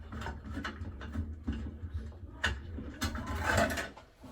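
A screwdriver works at the fixings of a flush-mount LED ceiling light, giving soft scraping, clicking and ratcheting sounds in short bursts that are close and moderately quiet.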